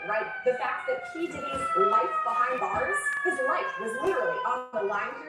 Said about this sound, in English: You can hear sirens, you can see cars going back and forth.